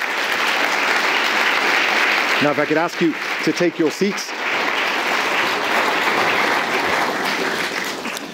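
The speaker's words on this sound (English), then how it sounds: "please rise and acknowledge the applause for a great panel." Audience applause for a panel at a conference on new connections, a broad steady wash of clapping from a large crowd that continues under and after a voice speaking briefly over it.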